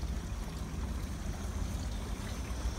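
Water runs steadily from a garden hose supplied by a water tower in a backyard, a continuous close trickle and splash with a low rumbling wash underneath and no voices.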